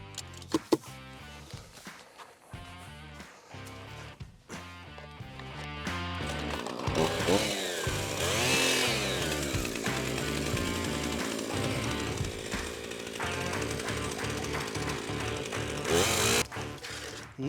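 A motorized saw cuts into lake ice. A few short bursts start and stop, then the saw settles into a long, loud, buzzing drone that varies in pitch, with faint clatter early on.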